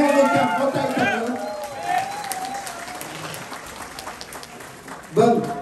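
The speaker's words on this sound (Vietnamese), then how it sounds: "Chúng ta hãy chào mừng nhau một tràng pháo tay thật lớn." Applause from the audience at a political fundraising event, a burst of clapping partly under an announcer's voice, briefly fading before the voice resumes.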